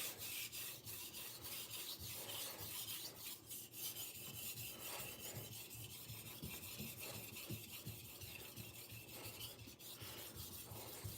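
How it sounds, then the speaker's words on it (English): A santoku kitchen knife is sharpened with a steady, close, raspy grinding of repeated strokes, continuous and fairly quiet, with no voices. "This one's pretty easy to sharpen, this santoku."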